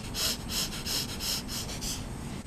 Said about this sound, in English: Now take a series of 15 short, fast inhales and exhales through your nose.